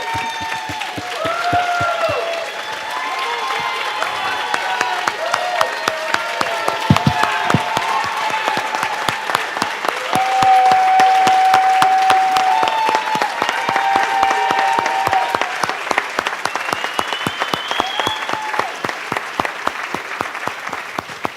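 Steady applause from a large audience at a school fundraiser gala honoring teachers, sustained clapping with occasional cheers building and fading over about twenty seconds.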